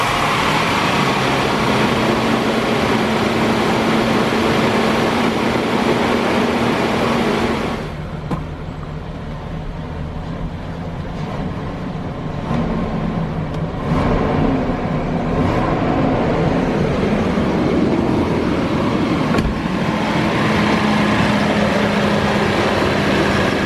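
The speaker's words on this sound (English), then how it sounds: "If you're wondering what that loud noise was from this area on startup, it's actually the secondary air pump." BMW 7 Series engine starting and idling with the secondary air pump running, a loud, steady mechanical whir and hum that drops off partway through, then the engine idle continues.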